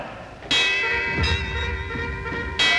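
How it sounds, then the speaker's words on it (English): A large bell rings out in a few heavy strikes, each leaving a long, ringing hum that fades before the next clang. "Ring the alarm bell!"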